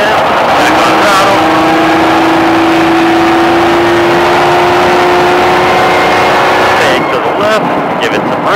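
A SpeedVegas Baja exotic car accelerates hard back on throttle, its engine holding a loud, sustained rising drone for several seconds before easing off near the end.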